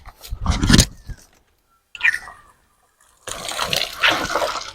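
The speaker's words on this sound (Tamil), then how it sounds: "நம்ம தண்ணி நீக்கிட்டுருவோம்." Water gushes and splashes in bursts in a garden, stopping briefly between them, then flows again in a steady rushing stream nearby.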